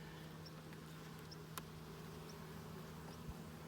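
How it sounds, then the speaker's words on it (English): Honey bees buzz faintly during a fall beehive inspection, a soft continuous hum with a few light taps and clicks close by. "These are the gentlest bees."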